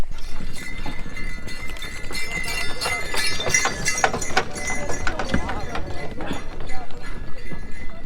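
A horse pulls a sleigh on a wintry ride, with rhythmic hoof clops and jingling bells close by, and people talk and call out over it throughout.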